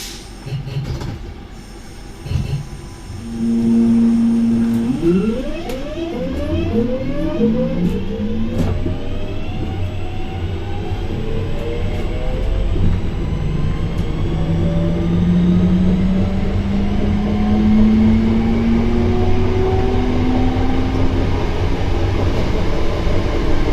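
A British Rail Class 323 electric multiple unit pulls away on its VF drive in pattern-based PWM, giving a loud, steady stack of rising whining tones that sweep upward in pitch over rumbling wheel noise as the train gathers speed.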